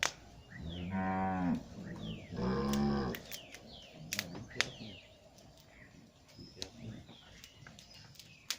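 Cattle on a farm in Belize give two long, loud moos up close, followed by quieter farmyard ambience with bird chirps and scattered clicks.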